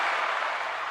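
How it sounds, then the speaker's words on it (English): Steady, dense applause from a group at an interview gathering, a continuous wash of clapping heard alone without talk, holding fairly even for its short length. "Let me give y'all a round of applause, man."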